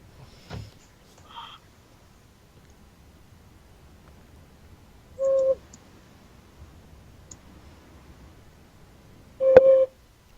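A man imitates an owl's hoot with his voice in two short, clear hoots several seconds apart, with soft clicks earlier and a quiet background between them.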